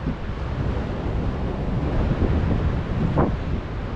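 Swelling sea waves break and wash against a rocky beach in strong wind. The surf keeps up a continuous broadband roar, with wind buffeting the microphone and one brief sharper splash near the end.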